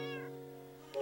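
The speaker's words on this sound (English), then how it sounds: "Is that the cat?" Cat meowing in a Minecraft game set on hard mode, a single quiet drawn-out meow that fades, then a faint brief sound at the very end.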